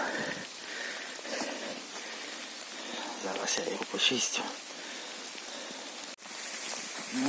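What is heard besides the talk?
rain falling in forest during mushroom picking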